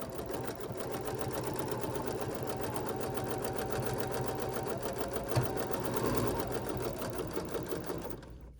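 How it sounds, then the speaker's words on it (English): A sewing machine runs steadily while stitching a curve along a previous stitching line on an embroidered crazy quilt block, its rapid mechanical chatter continuous and close for several seconds before stopping at the end. "we're going to gently go and make that curve again, and we're going to try our best to stitch on our previous stitching line."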